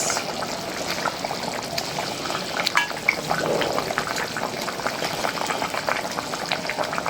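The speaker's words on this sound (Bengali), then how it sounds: "এখন মাছ দিয়ে দিই ভাজা রাখা কই মাছ" Fried koi fish go into a simmering tomato curry, setting off a continuous bubbling and sizzling with small pops, steady and fairly close.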